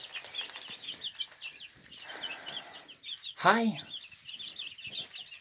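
Chickens cluck and chatter softly in a coop, with one louder squawking call in the middle amid quiet background activity.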